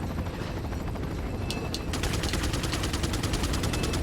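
A helicopter in Resident Evil 4 thrums steadily overhead under dense gameplay noise, joined midway by rapid bursts of gunfire that continue to the end.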